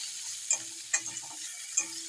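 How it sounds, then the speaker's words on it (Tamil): Tomatoes sauté in a pan for rasam, a soft hissing sizzle broken by a few quick stirring scrapes, close and fairly quiet. "இது ஒரு தக்காளி போட்டு கொஞ்சம் நேரம் வதங்கட்டும்."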